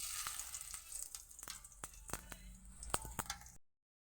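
Whole cumin seeds sizzle in hot mustard oil in a pan, a soft steady hiss with scattered small pops and crackles, close and fairly quiet, before cutting off.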